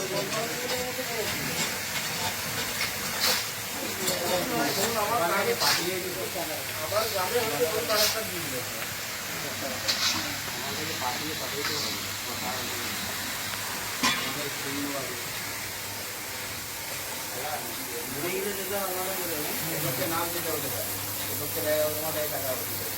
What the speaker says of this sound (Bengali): কড়াইয়ে চাল তৈরি হয়ে রোস্টারে মুড়ি ভাজা হবে